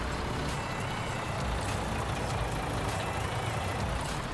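A truck drives in Farming Simulator 19 with a steady, loud engine drone and road rumble that runs unbroken throughout, with no talking.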